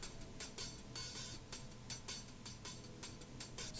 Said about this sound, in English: there was also this hi-hat loop.